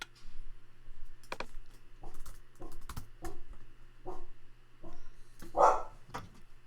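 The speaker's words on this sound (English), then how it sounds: "Excuse the dog." A dog barks indoors in a home office, several short sharp yaps spaced irregularly, one louder bark near the end, mixed with light keyboard clicking.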